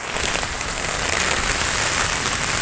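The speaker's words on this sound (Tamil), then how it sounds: "இதெல்லாம் மழை பெஞ்சிட்டு இருக்குது" Steady rain pours down outdoors in front of a school, a dense, continuous hiss of drops hitting surfaces, loud and unbroken with no voices.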